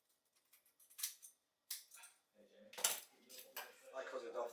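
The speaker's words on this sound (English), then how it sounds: "I cut it off there at the wing." A knife cuts the wing off a raw chicken on a board, making faint, close scrapes, soft clicks and a few sharp metallic taps in irregular bursts.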